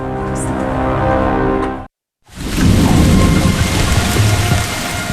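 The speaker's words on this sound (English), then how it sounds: "A heavy rain soaks a small airport in Dubrovnik" Heavy rain pours steadily at a small airport in Dubrovnik, Croatia, after a low rumbling passage and a brief silence, a dense, loud hiss of a downpour.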